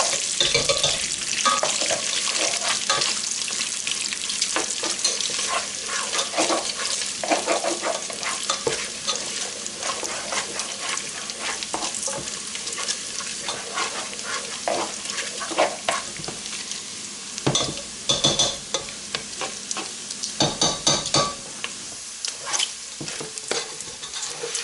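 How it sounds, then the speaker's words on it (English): Bacon frying in a pan, a continuous close sizzle and crackle with occasional stirring clicks and spits, loud and steady throughout without talk. "Bacon looks like it's just about done."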